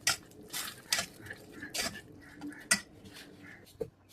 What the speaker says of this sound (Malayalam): ഇനി രണ്ടും കൂടി ഈ ബട്ടറിൽ ഒന്ന് നല്ലവണ്ണം മിക്സ് ആക്കി എടുക്കാം